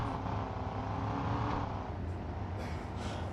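Steady engine drone and road rumble of a car driving in a car simulator video game, a continuous hum without clear revs or gear changes.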